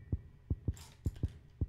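A heartbeat plays in the horror video game Granny: close, deep thumps in lub-dub pairs, about six beats in quick regular rhythm, with faint game noise between and no speech.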